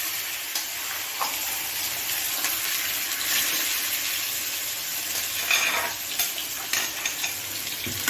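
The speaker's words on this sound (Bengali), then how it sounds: "এবার আমরা এটাকে একটু কষে নেব তেলে।" Chicken pieces for chicken lollipop sizzling and frying in hot oil, a steady close crackle with faint stirring scrapes and no talking.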